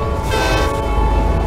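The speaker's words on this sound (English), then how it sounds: "And a train's going by, so here we go." A freight train passing with its horn blaring in American Truck Simulator near Idaho Falls on Interstate 15: a sustained, loud, close horn chord over rumbling rail noise.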